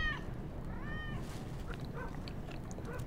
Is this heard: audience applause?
no